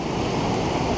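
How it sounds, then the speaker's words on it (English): A waterfall on the Mount Whitney trail rushes in a steady, dense roar of falling water, loud and close, with no break or voices. "So here's a little bit of the waterfall."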